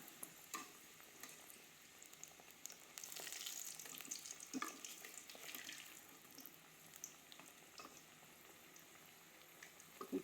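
Egg and potato puri frying in hot oil, giving a quiet, continuous crackling sizzle with a few brief louder bubbling bursts and no talk.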